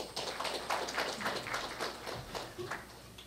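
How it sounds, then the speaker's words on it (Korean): Applause from an audience at a Korea University faculty startup briefing, a steady patter of many hands clapping at moderate distance, fairly quiet and sustained. "박수 부탁드리겠습니다"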